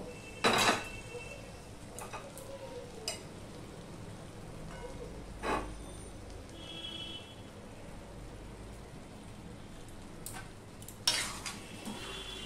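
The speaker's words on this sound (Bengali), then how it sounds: "ছোলার ডাল আর ইঁচড় এইগুলো আমি দিয়ে দেবো, দিয়ে আমি একটুখানি কষিয়ে নেব।" Chana dal and green jackfruit sautéing in a pan, a soft continuous sizzle with occasional sharp clanks and scrapes of a spatula against the pan, quiet and close, with no talking.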